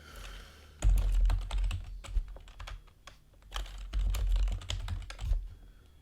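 Close keystrokes clatter on a computer keyboard as a username and password are entered, coming in quick irregular bursts with brief pauses and no voices.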